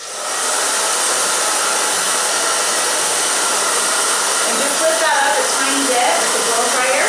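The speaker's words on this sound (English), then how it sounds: "I'm barely going to start the blow dryer." A hair dryer blows steadily and loudly throughout, a constant broadband whoosh with faint voices in the background.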